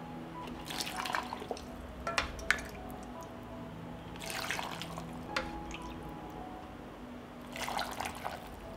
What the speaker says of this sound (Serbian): Vreo preliv sipaću u tegle.